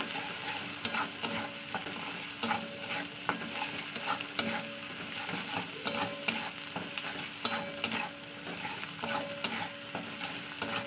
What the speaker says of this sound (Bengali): এটাকে দিয়ে ওই আদা রসুনের সঙ্গে একসঙ্গে কষিয়ে নেবো